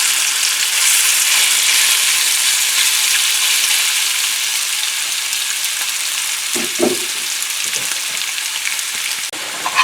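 Steady, loud sizzling of prawns frying in hot oil in a pan, with a few brief scraping stirs near the end.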